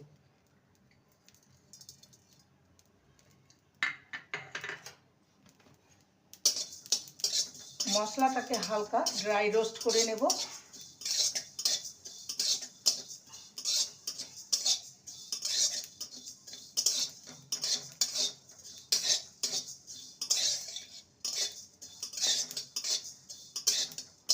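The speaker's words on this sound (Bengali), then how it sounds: "এখানে রয়েছে পাঁচ ফোড়ন হাফ টিস্পুন আর গোটা জিরে হাফ টিস্পুন শুকনো খোলায় ভেজে নেব" Whole panch phoron and cumin seeds dry-roasting in a pan, giving a close, busy run of light metallic clinks and scrapes from a utensil on the pan after a quiet start, with a short burst of voiced sound partway through.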